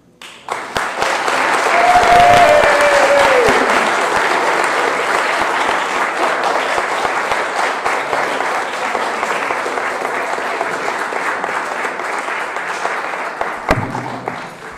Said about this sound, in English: that was not nearly enough applause for Inelia